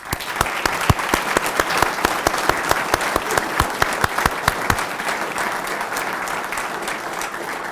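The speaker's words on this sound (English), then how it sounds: "Let's have one more round of applause for all the recipients." Audience applause for award recipients at a veterans honor event, with many hands clapping in a dense, steady wash, crisp individual claps standing out early, then tapering slightly toward the end.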